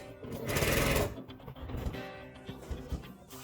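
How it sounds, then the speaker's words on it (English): A German Dürkopp industrial sewing machine stitches cowhide upholstery for a Land Cruiser LC100 seat, a close rapid mechanical whir that starts loud, then continues in uneven bursts of stitching. "Sewing it all together with a German Dürkopp sewing machine."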